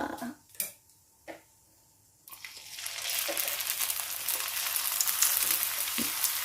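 Pork-filled wontons fry in hot oil. A few sharp knocks come first, then a steady, bright sizzle that swells and holds close up, with no voices.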